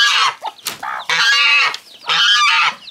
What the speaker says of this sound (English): Hen, Henny, come here